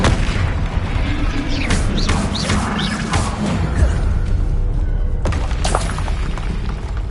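Confringo spell blasts in the video game Hogwarts Legacy on PS5 come as repeated booming explosive bursts with whooshing trails, loud and dense throughout, with a sharp crack near the end.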